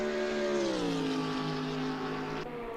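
GT3 race cars in a video game at Spa go through Eau Rouge, a loud, sustained engine whine that shifts downward in pitch as the car changes gear, close and steady.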